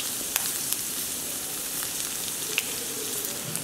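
Mustard seeds, fenugreek and urad dal sizzle steadily in hot coconut oil for a Konkani-style tempering, a close, continuous crackling hiss with small pops scattered throughout.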